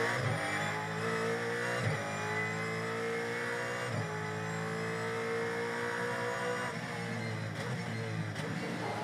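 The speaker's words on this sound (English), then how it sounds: "let's just stay on board, enjoy the sights and sounds of the new car" Onboard a Supercars race car during the 2023 Newcastle 500 street race, the engine revs hard and close. It climbs repeatedly through the gears, with a quick upshift every couple of seconds before a longer sustained pull.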